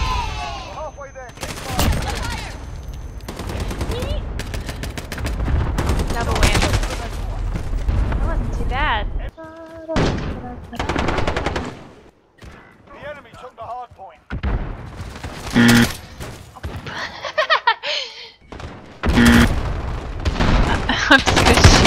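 Gunfire in Call of Duty: Modern Warfare multiplayer: dense bursts of rapid shots and heavy booms fill most of the stretch, with brief lulls, while a player talks over the action.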